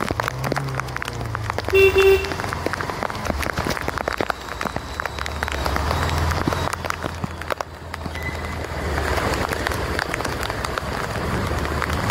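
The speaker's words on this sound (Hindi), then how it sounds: "बारिश कितनी तेज़ हो रही है" Steady, dense rain pours down throughout, with a brief horn toot early on and occasional passing traffic noise beneath the downpour.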